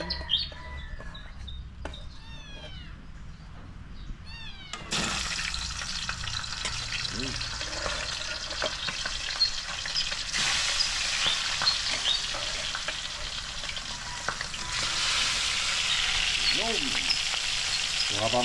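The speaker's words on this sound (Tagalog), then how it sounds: "habang piniprito na natin yon, naririnig nyo naman" Kamansi (breadfruit) pieces fry in a pan with a steady crackling sizzle that grows louder after a quiet start, with faint bird chirps in the background.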